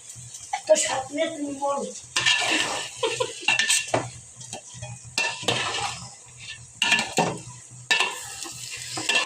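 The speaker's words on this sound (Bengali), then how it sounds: "একটু ভালোভাবে নাড়াচাড়া করতে দাও" A spoon scrapes and clinks around a pot of khichuri in repeated bursts while food sizzles, with a person talking between the stirring strokes.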